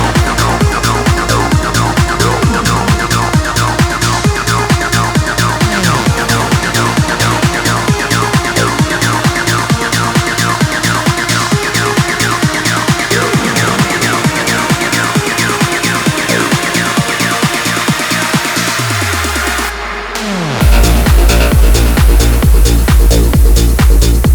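Acid techno breakdown in Drumcode style: a pounding four-on-the-floor kick drives dense layered synths and percussion, then a falling sweep and brief dip with a reverb clap lead into a loud, heavier drop.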